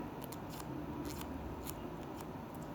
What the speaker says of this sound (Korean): 문질르는 소리가 납니다. 일자기 때문에 파일처럼 예 소리가 나고요.